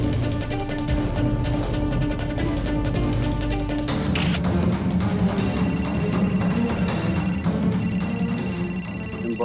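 A telephone rings with a steady electronic tone that repeats twice, sounding over a busy background of music and ambient noise.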